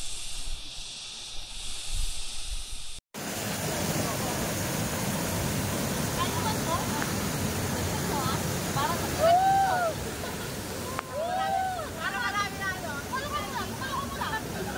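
Mountain waterfall on Mt. Bisol in Carranglan, Nueva Ecija, a steady broadband rush of falling water, constant and full, after a short quieter opening, with faint voices briefly over it.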